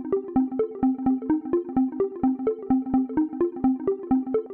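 A synthesizer lead patch plays a steady, repeating pattern of short plucked notes, each trailed by stereo delay echoes with the bass trimmed away by a low-cut filter. The rhythm is even and clean, with no other sounds.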